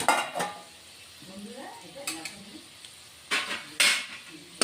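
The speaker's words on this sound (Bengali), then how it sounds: "আমার আলু ভাজা হয়ে গেছে এখন আলু ভাজাগুলি আমি নামিয়ে দিচ্ছি" Fried potatoes are lifted out of a pan, with scraping and clinking of a utensil against cookware in short bursts over a faint sizzle, close by and fairly quiet.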